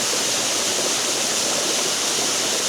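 Steady, full rushing roar of a waterfall pouring over a rock ledge at Blairskaith Linn, close and continuous with no voices.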